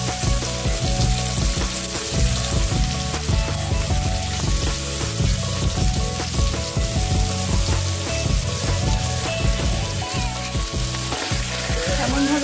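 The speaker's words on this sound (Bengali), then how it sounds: "এরপর একটা কড়াইতে তেল গরম করে মাছগুলো ভেজে নিচ্ছি।" Marinated fish frying in hot oil in a wok gives a loud, dense sizzle with crackling spatter, steady and close for the whole stretch, and no one speaks.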